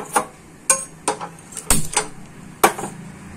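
Metal pans and utensils clank on a gas stove in a home kitchen while fried potatoes are prepared: a handful of sharp, irregular knocks and clinks, close by, with no talking.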